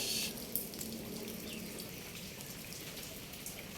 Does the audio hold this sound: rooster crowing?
no